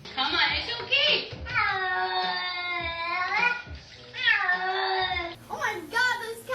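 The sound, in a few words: cat meowing while being bathed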